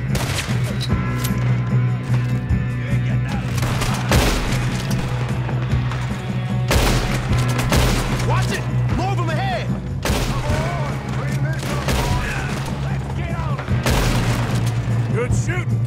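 Sustained gunfire rattles through a Red Dead Redemption 2 shootout: dense volleys of rifle and revolver shots with heavy booms and a low droning score underneath, and voices shout at intervals throughout.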